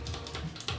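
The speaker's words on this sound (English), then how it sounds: "this is what they sound like bottoming out." Cherry MX White switches bottoming out on a Ducky Shine 3 keyboard, a quick run of muffled, close keystroke clacks at a low level.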